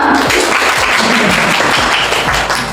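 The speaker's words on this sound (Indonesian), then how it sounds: "Tepuk tangan untuk kita semua." Students in a school hall at a literacy program event break into loud, continuous applause that stays dense and even throughout.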